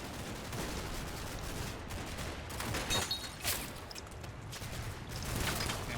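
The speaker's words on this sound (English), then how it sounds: "And here comes the incoming fire from there" Incoming small-arms and machine-gun fire in the Combat Mission game, rapid overlapping bursts and sharp cracks, continuous and moderately loud, with a few louder shots standing out.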